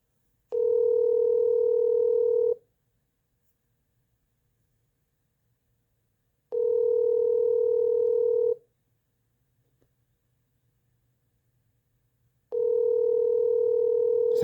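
Telephone tone after dialing a number: a steady, loud tone sounds in three two-second bursts separated by about four seconds of near silence, with no talking.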